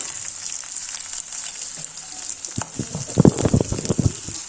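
Potatoes and onions frying in a pan for an Assamese dish: a constant crackling sizzle, joined midway by louder clattering stirs and scrapes close by, no voices.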